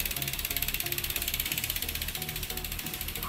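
Freewheel hub of a Sava Colorado carbon road bike wheel spinning freely, giving a rapid, even ticking that runs steadily throughout, close and moderately loud, with no one talking.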